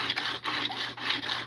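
Steady abrasive rasping of a blade being sharpened on a diamond plate, repeated strokes with brief pauses between them, close and fairly loud.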